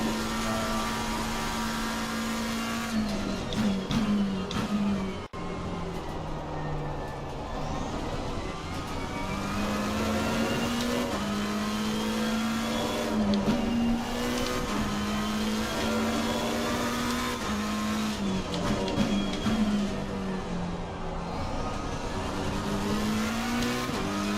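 A GT3 race car in Assetto Corsa Competizione laps Silverstone, its engine droning steadily with rising and falling revs through gear changes, loud and continuous for the whole stretch, with no talk over it.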